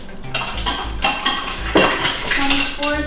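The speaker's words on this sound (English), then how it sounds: "So I'm gonna just go grab a large bowl with a whisk" A whisk and a large bowl being handled in a home kitchen, with metal clinks and scraping knocks sounding close and fairly loud, a few heavier bumps, and no talking.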